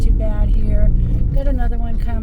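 A car drives past on a narrow road near a mountain trailhead, a low steady engine rumble and tire roar close by under continuous conversation.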